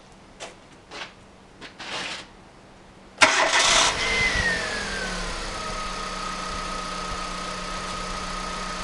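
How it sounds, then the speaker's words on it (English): A car engine cranks and catches with a loud burst, then settles into a steady idle with a falling whine; a few faint clicks and knocks come before the start, with no talk. "I'm going to go start the vehicle"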